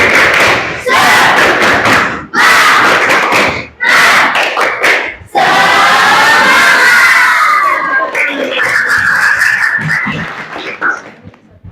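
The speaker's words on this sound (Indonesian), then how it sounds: "Oke, 1, 2, 3, tepuk semangat." A school class performs the tepuk semangat spirit chant, a rhythmic clapping cheer. Loud, close bursts of group clapping and thumping alternate with excited children's shouting voices.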